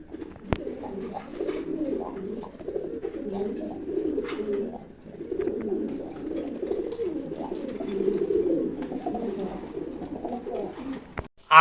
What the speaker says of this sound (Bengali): এর জন্য কবুতরটা একটু কম ডাকতেছে,